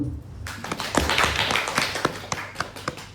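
Applause from a seminar audience in a hall, a steady wash of many hands clapping at once with sharper individual claps standing out, moderately loud and sustained for a few seconds with no talking over it.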